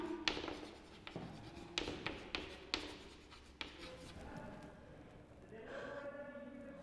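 Chalk or marker tapping and scratching as a chemistry question about a compound is written on a board, a quick run of sharp strokes followed by quieter rubbing, with a teacher speaking.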